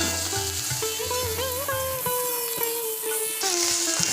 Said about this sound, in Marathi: आता मी कोथिंबीर टाकली त्याला परतून घ्यायची हे मी आता पूर्ण परतून घेतलेली आहे